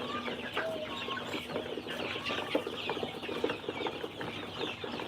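Egyptian Fayoumi-type chickens, a rooster and a hen, cluck softly and steadily at close range, with faint scattered clucks and light rustling over a low background hum.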